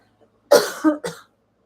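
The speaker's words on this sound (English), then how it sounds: "Still have this whatever this cough is." A single short, throaty allergy cough in two or three harsh bursts, close and fairly loud, then silence.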